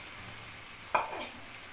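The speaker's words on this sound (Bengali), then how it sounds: "এখন আমি এই মাছ আর মশলার ভিতর সিমের কিছুটা দিয়ে দিব" Broad bean seeds drop into snakehead fish and spice mix frying in a pan, giving one soft splash and a brief flare of sizzle over a steady, even frying hiss.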